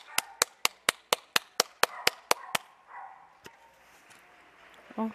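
About a dozen sharp, evenly spaced claps ring out from a distance across a quiet Spanish street from the balconies, then stop, followed by faint ambient sounds and a brief voice at the end.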